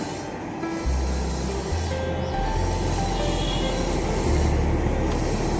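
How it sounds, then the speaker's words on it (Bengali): A metro train running past, a loud continuous rumble with rail hum and faint squealing tones throughout, close by and steady. "ফাইনালি মেট্রো চলছে"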